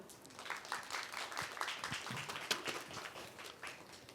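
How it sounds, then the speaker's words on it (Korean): Audience applause welcoming Professor Yuval Noah Harari to the stage at a press conference in Korea: steady, moderately distant clapping from a crowd, sustained and even throughout without speech. "유발 하라리 교수님 따뜻하게 또 한번 박수로 환영해 주십시오."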